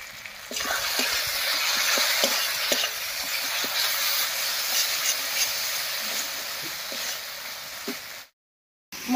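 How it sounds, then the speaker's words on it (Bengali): Ground spice paste of ginger-garlic, cumin and coriander with turmeric and salt frying in a pan for a cauliflower and egg curry, a loud continuous sizzle with scattered stirring scrapes, cutting off briefly near the end. "মশলাগুলো দিয়ে একটু রান্না করে নিয়েছি।"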